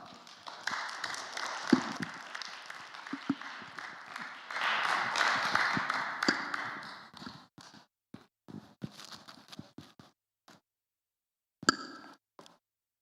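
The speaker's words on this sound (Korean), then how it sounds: "우리 모실 때 뜨거운 박수로 환영하도록 하겠습니다" Warm applause at a church lecture gathering welcoming a professor, a dense burst of clapping that swells, then thins to scattered claps and stops, with a short final burst.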